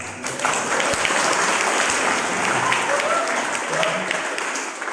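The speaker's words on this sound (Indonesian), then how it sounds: "Tepuk tangan dong." An audience at a vocational high school event applauds students, steady dense clapping that fills the whole stretch, with faint talk mixed underneath.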